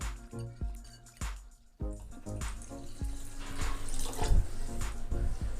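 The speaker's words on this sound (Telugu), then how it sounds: "బియ్యం 2 సార్లు కడిగి" Rice being washed in water for kuska rice: swishing and splashing with knocks against the vessel, growing into a fuller running-water sound.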